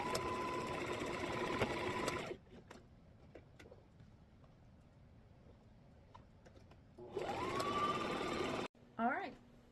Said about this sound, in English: I'm going to now stitch down this line on both pieces.